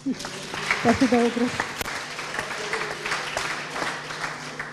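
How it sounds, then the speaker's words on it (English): Audience applause at a public lecture, scattered clapping spreading through the room at moderate volume, with a speaker's voice briefly over it near the start. "A round of applause, please."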